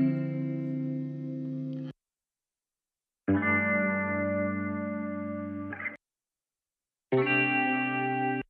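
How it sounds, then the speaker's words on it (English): Three sustained synth chord samples ring out with a wide, chorused and slightly distorted tone, each held a couple of seconds and separated by silent gaps, the last cut short. "I may do a ping pong delay on this"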